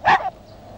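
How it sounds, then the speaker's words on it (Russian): A dog gives one sharp, loud bark close by, which trails off quickly into quiet in a scene from a 1962 comedy film. "Еще лает, сейчас запру."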